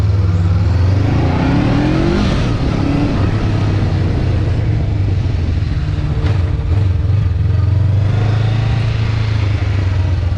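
A 2021 Honda CBR500R motorcycle on a test ride, its engine droning loud and close with a rising rev as it accelerates, wind rushing over the steady motor sound, no talking.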